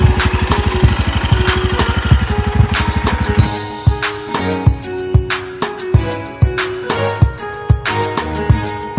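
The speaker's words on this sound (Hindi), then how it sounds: "तो अभी हम लोग खारकिया ही जा रहे हैं बाइक में।" A motorcycle rides toward Kharkiya on a rough mountain road running with water, its engine loud and close with a throbbing idle-like beat that swells and lurches in uneven bursts.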